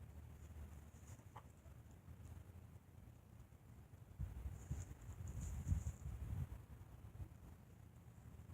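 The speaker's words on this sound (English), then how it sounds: "Just come watch your chickens in the chicken yard." Hens in a backyard chicken yard cluck softly and intermittently over faint wind, with the clucking growing busier midway and no talking.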